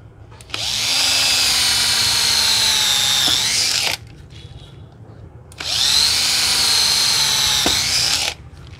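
A used Japanese cordless drill driver, run without speed control, whirs at full speed in two loud, steady bursts of about three seconds each, close up, with a pause between and no talking.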